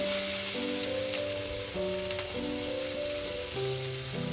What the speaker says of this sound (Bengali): তেল কিন্তু গরম হয়ে গেছে তো এবার আমি এবার আমি কিন্তু পেঁয়াজ কুচোগুলো দিয়ে দেবো